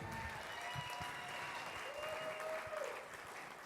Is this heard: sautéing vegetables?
no